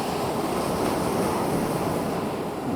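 Steady wind blowing at a seaside fishing spot with the surf behind it, a continuous broadband rush at moderate level with no talking.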